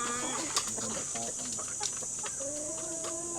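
Several chickens cluck nearby in quick, broken phrases, one drawn-out call near the end, over a constant high hiss of background insects.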